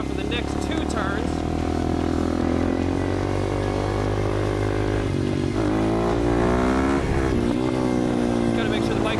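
A supermoto motorcycle runs loud and close on the Adams Motorsports Park race track, its engine droning steadily with rising and falling pitch as the rider shifts and accelerates, while a rider's voice talks over it.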